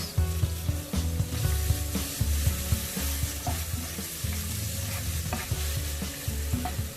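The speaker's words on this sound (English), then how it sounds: "Now add onions, finely chopped onions." Finely chopped onions frying in a pan for a creamy prawn malai curry, giving a steady, close sizzle that runs throughout with light stirring, over soft background music.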